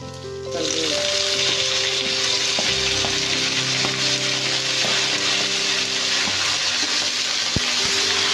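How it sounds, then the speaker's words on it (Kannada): Peanuts fry in hot oil in a pan for poha (avalakki chitranna). A loud, continuous close-up sizzle kicks in after a brief quiet start and holds steady, with a faint tonal hum underneath. "ಚೆನ್ನಾಗಿ ಫ್ರೈ ಮಾಡಬೇಕು ಕಡಲೆ ಬೀಜ ಚೆನ್ನಾಗಿ ಫ್ರೈ ಆಯಿತು"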